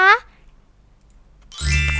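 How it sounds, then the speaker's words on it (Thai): A notification bell dings once, a bright ringing chime at the end of a short stretch that opens with a brief high tone and otherwise holds near silence. "อย่าลืมกดกระดิ่ง กริ๊งๆ เพื่อจะได้ไม่พลาดคลิปใหม่ๆของเรานะคะ"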